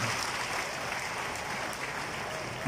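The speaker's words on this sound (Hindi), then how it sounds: "प्रत्याशी श्रवण गौड़ जी के लिए जोर से ताली बजाइए आप सभी लोग" Steady applause from a crowd at an Indian political by-election rally, sustained even clapping heard at a moderate distance with no voices on top.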